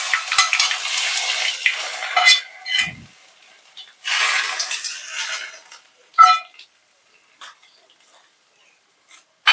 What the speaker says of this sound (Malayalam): ഇനി ഇതിലേക്ക് കടുക് വറുത്തിടണം.